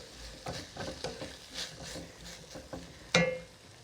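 Food sautéing fast over high heat in a pan for Thai green curry with lentils, with a steady sizzle broken by repeated stirring scrapes and a sharp clank of a utensil against the pan near the end.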